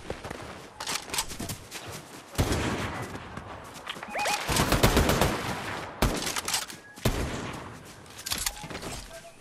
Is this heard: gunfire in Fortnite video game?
yes